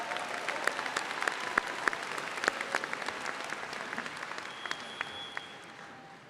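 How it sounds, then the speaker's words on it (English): An audience at an MBA business school commencement ceremony claps in a steady, dense round of applause that fades out toward the end. "Let's give them one final round of applause."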